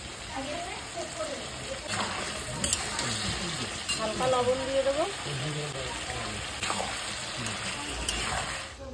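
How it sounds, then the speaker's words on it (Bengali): Pieces of chicken frying in oil with a little turmeric, with a steady sizzle and occasional stirring scrapes running throughout beneath continuous nearby speech. "চিকেনটা ভেজে নেব তেলে।"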